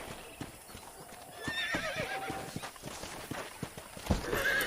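Horse hooves clip-clop in a steady walking rhythm with a horse neighing partway through, set in the Red Dead Redemption game on PS3, heard alone without talk.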